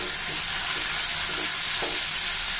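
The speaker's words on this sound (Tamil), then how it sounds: "இப்போ இதை நல்லா மிக்ஸ் பண்ணி விட்டுக்கலாங்க." Chapati pieces with kurma and onions are stirred in a frying pan, a continuous close sizzle with soft scraping stir sounds, no voices.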